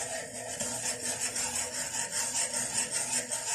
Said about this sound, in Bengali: এইভাবে আমি আস্তে আস্তে ঢেলে দিচ্ছি এবং এক হাতে কন্টিনিউ নাড়তে হবে